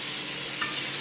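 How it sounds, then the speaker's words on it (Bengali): Tilapia fish frying in oil on a home stove, a steady close hiss of sizzling with no voices over it. "আবার এদিকে উনুনে মাছটাও ভাজতে হবে"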